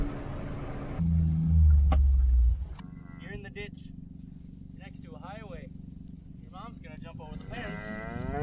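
A cow and her calf moo loudly and close by, with a long, deep bellow early on, followed by quieter open-air sounds and faint higher calls.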